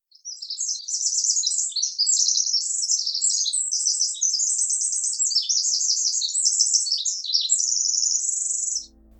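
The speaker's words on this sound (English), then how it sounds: "the Pacific Wren was designed with the most stunning song I've ever heard" A Pacific Wren sings one long, continuous song of rapid high trills, chips and warbles lasting about eight seconds, loud and clear over silence before it stops abruptly.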